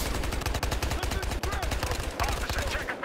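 Rapid, loud bursts of automatic gunfire in Battlefield Hardline multiplayer, a Tommy gun rattling in close, continuous strings with a short pause, while a voice speaks in the background.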